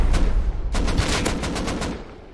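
A rocket launched at the player in the survival game Rust: a loud close blast with a dense roaring burst of impacts and crackling that sustains for over a second before slowly trailing off.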